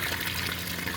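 Water runs steadily from a hose or tap to refill a pond tank during maintenance, a continuous close gushing and splashing wash with no pauses or voices.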